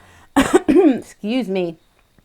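A few voiced coughs and throat-clearing sounds come in quick succession, close and fairly loud, then silence.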